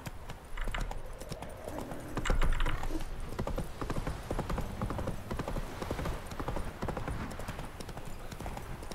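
A horse trots along in The Witcher 3: Wild Hunt, with a steady, close clip-clop of hooves and creaking tack throughout and a brief louder swell near the start.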